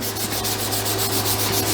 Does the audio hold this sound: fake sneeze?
no